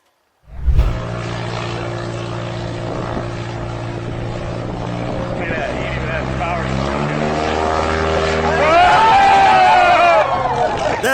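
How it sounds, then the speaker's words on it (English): A fixed-wing propeller aircraft builds up a loud, steady engine drone for a very short takeoff, rising in pitch and intensity toward the end, with crowd voices and chatter mixed underneath. "That's gotta be the shortest takeoff for any aircraft I've seen up until now."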